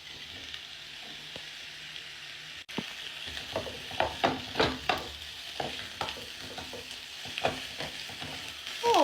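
Spiced food fries in a pan seasoned with cumin, paprika, coriander, ginger, salt and garlic, giving a steady sizzle with loud stirring scrapes and clacks that get busier after a short pause.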